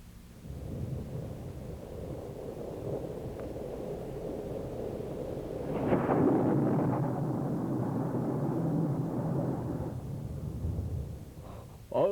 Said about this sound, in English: Didn't you hear all that thundering and see the lightning?